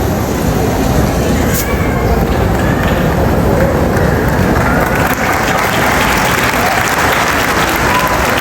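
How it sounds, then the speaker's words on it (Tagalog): An audience at a PDP political gathering in the Philippines gives loud, sustained applause, a thick wall of clapping that holds steady throughout. "Isa muling malakas na palakpak para kay Attorney"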